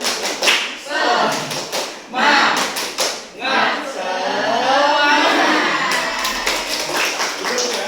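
An eighth-grade class performs a 'tepuk semangat' routine, chanting together while clapping in quick rhythmic bursts. The clapping comes in clusters separated by sung or spoken group voices, close and fairly loud in a classroom.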